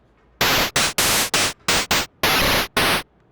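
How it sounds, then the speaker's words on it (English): Harsh chip-style digital noise from the SixSines synthesizer, eight abrupt loud bursts of hissing static in an uneven stuttering rhythm, with near silence between them and no voice. "that sort of chip-based, very digital-sounding noise, pretty hard to listen to"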